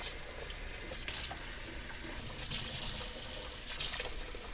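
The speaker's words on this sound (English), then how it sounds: "So we'll just water them in the sink here." Water runs from a tap into a sink while potted plants, including philodendrons, are watered, a steady broadband rush with brief louder splashes and gushes spaced across it.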